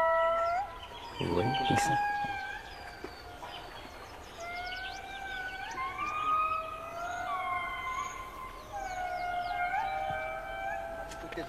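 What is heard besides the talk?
indri lemurs calling in Madagascar forest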